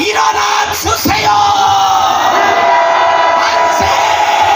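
A large crowd at a rally shouts manse cheers in unison, a loud, sustained roar of many voices with a few louder yells rising over it.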